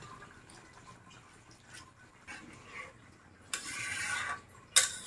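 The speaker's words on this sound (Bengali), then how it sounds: "ওদিকে ঝোলের জন্য পানি গেল" Water poured into a cooking pot to make the gravy for a fish-head muri ghonto curry, a nearby splashing, gurgling pour running for about a second amid kitchen clatter, ending with a sharp clink.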